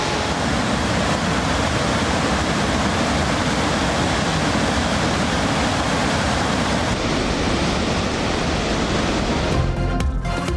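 Water pours through the opened spillways of Rawal Dam in Islamabad as a steady, dense roar that stays loud and unbroken throughout.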